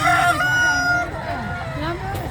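A large native Tagalog rooster crows loudly and close by in the Philippines, one drawn-out call over a busy yard, with faint talk in the background.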